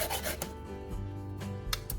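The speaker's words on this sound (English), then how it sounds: "Next, I use sandpaper to smooth the area around the bottom of the can." Sandpaper rubs the metal bottom of a can to smooth drilled edges, a close, quiet rasping made of several short strokes with brief pauses between them.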